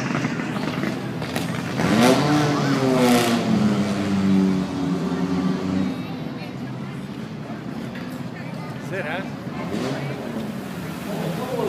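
A Triumph Spitfire race car, raced since the mid-1960s, drives past in a race car parade at Lime Rock, its engine revving and rising then fading, with a voice talking over it.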